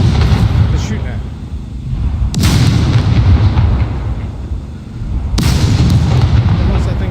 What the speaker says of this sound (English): What was that thing shooting at?